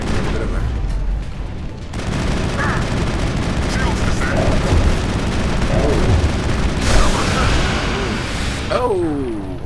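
Gunfire during a Mass Effect firefight, with dense rapid shots and bursts in a constant loud barrage and combat effects layered over it.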